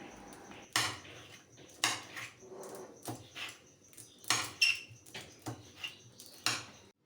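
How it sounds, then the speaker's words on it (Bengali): Green chilies are chopped with a knife on a board, about a dozen crisp, uneven cuts and taps close by, with short quiet pauses between strokes. "এরপর আমি লঙ্কাগুলো কেটে নিচ্ছি"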